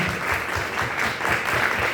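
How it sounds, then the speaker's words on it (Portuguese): A church congregation at a camp meeting applauds in a steady, dense wash of clapping, close and fairly loud for the full two seconds, with no voices standing out. "Então aplaudo, porque Ele é o Deus do impossível."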